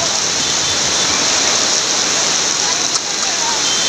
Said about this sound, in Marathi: या ठिकाणी जोरात पाऊस सुरू झालेला आहे